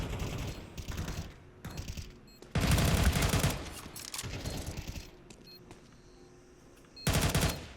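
Counter-Strike 2 gunfire, with loud bursts of rapid automatic shots separated by quieter stretches of clicks and footsteps, ending in one more burst near the end.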